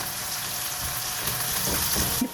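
Garlic, ginger and curry leaves fry in a pan over medium-high heat, giving a continuous bright sizzle and crackle up close, with a brief clatter near the end.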